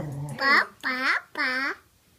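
A voice gives three drawn-out, nasal calls in a row, imitating a duck's quack.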